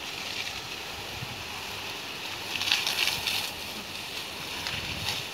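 Firefighters' hose spraying water onto a forest fire, heard as a steady broad rushing hiss with slight surges, fairly close and continuous throughout.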